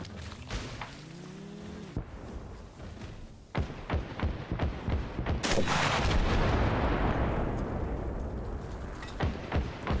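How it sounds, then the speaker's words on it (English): Gunfire and a rocket blast in the military shooter Arma Reforger, set among trees: sharp repeated shots, then a loud booming explosion around the midpoint that leaves a sustained rumbling roar, with scattered cracks continuing. "I didn't need to use a rocket on that guy"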